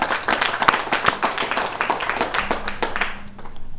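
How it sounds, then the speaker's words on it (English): Applause rings out for graduates at a virtual graduation ceremony, a dense run of clapping that holds steady and then thins out toward the end. "can we just give all the graduates that I've just mentioned there another round of applause for their"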